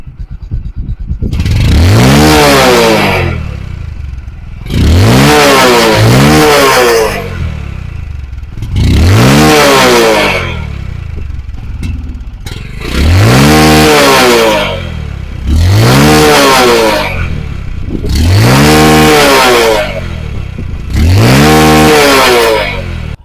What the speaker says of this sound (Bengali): তো চলুন এই বাইকটি এখন আমি স্টার্ট করে এই বাইকটির সাউন্ড শোনাবো।